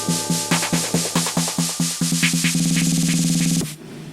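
Chained merge effects on a Flex 6 DJ controller, a looped beat repeating in a steady pulse that speeds into a rapid roll and build before ending with a sudden drop, loud and without talk.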